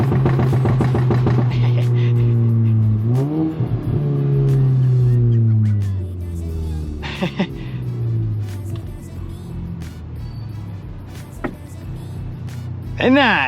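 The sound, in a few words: VW MK7 GTI with catless downpipe downshifting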